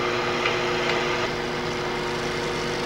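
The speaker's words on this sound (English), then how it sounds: "I'm going to turn around here and lower the handle and do a shear scrape" A wood lathe hums steadily with a constant motor tone while a chisel shear-scrapes the outside of a maple crotch calabash bowl, a continuous close, loud rushing scrape with no pauses.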